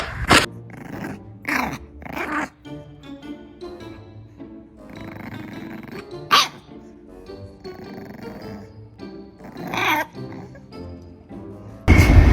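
A dog growls in low, rumbling bursts that come and go irregularly, broken by a few sharp, loud clattering knocks.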